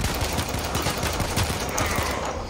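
Pistol gunfire in Warframe, a quick run of punchy shots firing in a rhythmic rapid sequence over a dense, loud game backdrop, with no talking.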